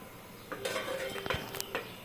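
A metal lid set onto a pot of Bengali boroli fish curry on a gas stove, a few sharp clanks and scrapes of metal with a faint simmer underneath.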